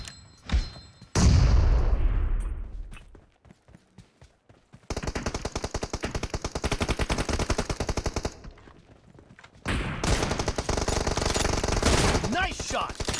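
Gunfire in the mobile battle-royale game PUBG Mobile: one loud blast with a booming tail, then long bursts of rapid automatic fire close and loud, a short pause, and another sustained burst.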